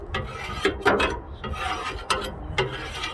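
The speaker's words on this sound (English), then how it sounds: "And use our spatula to rub it in." Metal spatula rubbing oil into a griddle surface, a series of close, dry rasping scrapes in uneven strokes, fairly quiet and with no voices.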